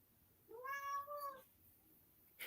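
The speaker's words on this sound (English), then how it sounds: "Was that your cat?" A house cat gives one clear, drawn-out meow in the middle, fairly close and alone in a quiet room, followed by silence and a tiny squeak at the end.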